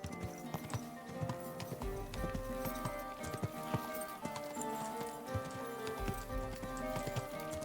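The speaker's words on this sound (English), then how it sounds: "sprint on the good horse" Hooves of a horse galloping in the video game Kingdom Come: Deliverance 2 drum in a quick, steady rhythm, fairly quiet and continuous, with game ambience beneath.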